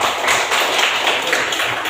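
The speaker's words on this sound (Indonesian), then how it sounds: "Ya, tepuk tangan untuk Indra" A class of students applauds a classmate named Indra with dense, continuous clapping that blurs into an even wash of sound, close and fairly loud, with no talking.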